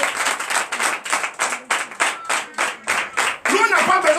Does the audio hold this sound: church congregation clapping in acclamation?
yes